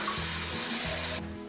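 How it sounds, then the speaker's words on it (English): Tap water running steadily into a pot of chicken and onions for homemade bone broth, a continuous close splashing pour that ends abruptly near the finish. "And then you add water."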